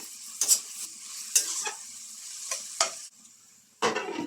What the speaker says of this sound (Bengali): আর পেঁয়াজটা একটু ভেজে নেব